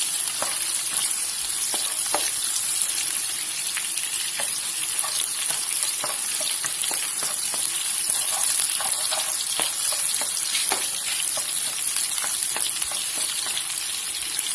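Pork trotters stir-frying with garlic and eggplant in a pan: a loud, steady oil sizzle fills the whole stretch, broken by frequent sharp clinks and scrapes of a utensil against the pan.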